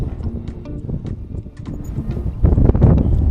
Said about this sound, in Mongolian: Амар салхилж байна.